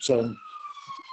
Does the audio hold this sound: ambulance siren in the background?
yes